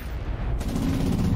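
A short burst of gunfire from the video game Scarface: The World Is Yours, a loud rapid volley with no talking over it.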